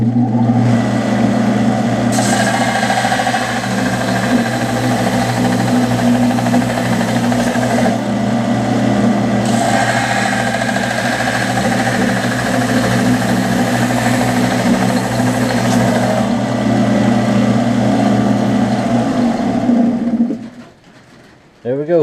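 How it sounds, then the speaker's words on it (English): A grinder flattens metal in a steady, loud motor drone that runs for about twenty seconds before winding down and cutting off, with a person's voice in the background. "Now noise alert, I'm going to grind it flat."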